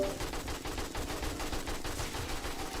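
Rapid, continuous gunfire rattles nonstop as headshots land on zombies, including irradiated cop zombies, in the survival game 7 Days to Die, dense and steady throughout with no voice over it.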